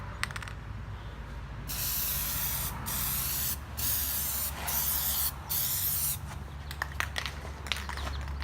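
An aerosol can sprays Plasti Dip onto car head and tail lights in short loud hissing bursts separated by brief pauses, close to the microphone, with no speech.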